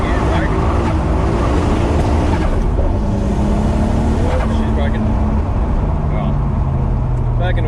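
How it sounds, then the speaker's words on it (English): A Nissan R32 Skyline doing a hard first-gear launch: a loud, close engine roar rising steadily in pitch through the pull, with a voice briefly audible over the engine. "We'll just do a quick launch, see if we can actually get some traction down."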